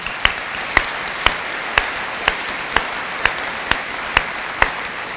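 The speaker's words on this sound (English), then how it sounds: "Would you give them a big round of applause, please?" Ten evenly spaced sharp single claps, each loud and isolated, roughly one every half second, ringing in a large hall during a high school graduation ceremony honoring the faculty; no voices.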